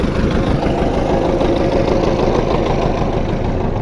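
A tractor engine idles nearby with a steady, low, rumbling chug that stays constant throughout, with no voices.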